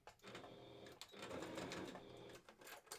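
A sewing machine stitches minky fabric for a plush wolf head, running in steady bursts close by with a short pause between runs, a fresh needle fitted.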